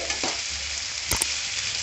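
Ginger garlic paste fries with onions in a pan, giving a steady close sizzle with a couple of quick scraping stirs of a spoon.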